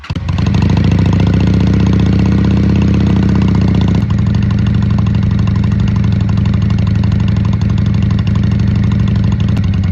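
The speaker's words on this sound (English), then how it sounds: "Yamaha V-Star 250," A Honda Shadow V-twin motorcycle idles close by with a steady, loud, throbbing engine note that barely changes for the whole stretch.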